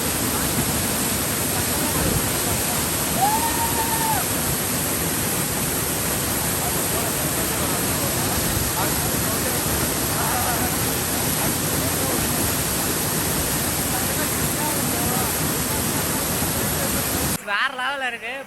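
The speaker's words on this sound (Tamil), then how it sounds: "டம் டம்னு அடிக்குதுங்க வேற மாதிரி தண்ணி வந்து மேலே போர்ஸா விழுது" Water pours forcefully onto people bathing under a waterfall, a dense, steady roar that fills the scene nonstop until it cuts off abruptly near the end.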